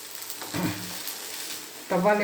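Vegetable cutlets fry in oil in a kadai, giving a steady sizzle with short bursts of louder crackling as pieces are moved, close up and without talk.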